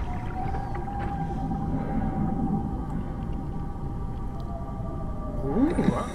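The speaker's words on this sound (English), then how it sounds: "Ooh, I heard a whale." Low, droning whale call in the SOMA video game's underwater setting, a long sustained moaning tone over a deep rumbling ambience, ending in a few rising, swooping cries near the close.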